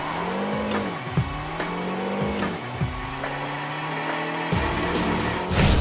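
A car in the video game Jak X power sliding on turns with the e-brake: sustained engine drone with rising and falling pitch sweeps and tire squeal, loud and continuous, no talk.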